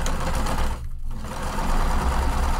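A sewing machine runs a seam at steady speed, its motor whirring loud and close, then breaks off briefly near the middle for the back stitch before resuming at an even pace.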